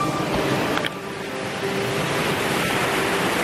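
Rushing water of a waterfall in the Tzoumerka mountains of Greece, a loud steady broadband roar filling the whole span, with a brief knock partway through and no talk.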